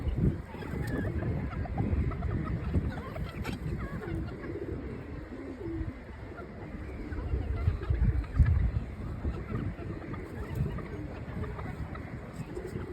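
Chickens of the farm's own breed on a poultry farm cluck and murmur continuously at moderate level, with chicks and adult birds kept beneath a flowering plant, a steady flock din with soft cooing notes throughout.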